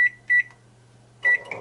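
A microwave oven beeps twice in quick succession as its start button is pressed, then a third beep follows after a pause, under the low hum of the oven running.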